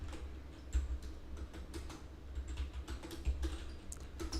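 Steady typing on a computer keyboard while writing trading strategy code, a continuous run of soft, close clicks and taps with a few heavier key presses, quiet and without speech.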